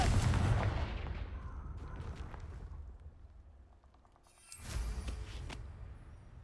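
The Confringo fire spell bursts in Hogwarts Legacy, a heavy booming explosion at the start that rumbles and fades, followed by a second sharp blast with crackling debris.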